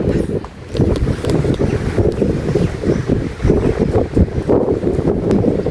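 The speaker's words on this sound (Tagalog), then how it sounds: "sarap ng hangin" Loud wind rumbles and buffets the microphone constantly, a low, blustery roar with no pauses.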